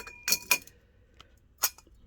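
Glass lens of a pre-war A7 car headlamp clinking as it is fitted, with two sharp glassy chinks close together, then a soft tap and a third bright clink after a pause, close and fairly loud.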